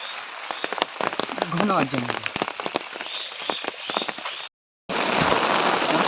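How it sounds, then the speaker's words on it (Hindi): Heavy monsoon rain patters hard and close on surfaces, with a brief voice murmuring under the downpour and a short dropout near the end. "देखिए भयंकर वाली बारिश लगी भाई, देखिए जूते सारे गिले"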